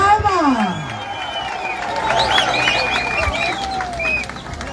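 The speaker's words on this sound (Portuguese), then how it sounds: "As palmas!" A crowd at an outdoor political rally in Angola claps and cheers, a loose patter of hands under excited voices and whistles, with the noise holding steady and fairly loud.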